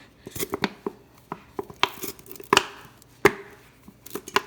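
Garlic being chopped into chunks with a knife on a board for birria beef tacos, a quick irregular run of close, crisp thuds and knocks with brief pauses between strokes.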